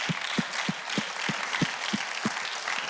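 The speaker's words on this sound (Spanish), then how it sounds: "Denle un aplauso a Jesús." A church congregation applauds: steady, evenly spaced claps roll at a quick regular pace over a broad wash of crowd noise, with no voices on top.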